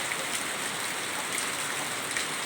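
Steady rain falls nearby as an even, continuous hiss of drops on surfaces, with no voices heard.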